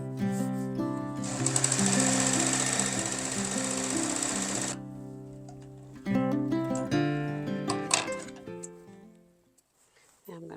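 Sewing machine hemming across the bottom of fabric, a fast steady mechanical chatter in a long run that stops and then resumes in shorter bursts, with a person talking throughout.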